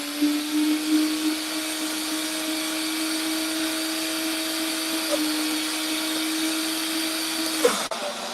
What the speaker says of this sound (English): I fought the blender and the blender won.